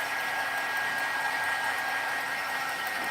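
Hair dryer blowing steadily on watercolor glitter paint during a live painting session, a continuous loud broadband whoosh that holds evenly for the whole stretch with no talking.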